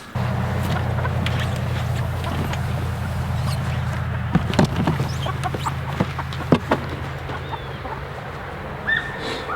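Backyard chickens in a movable coop on grass give scattered soft clucks over a steady low hum, with a few sharper close calls partway through and no speech.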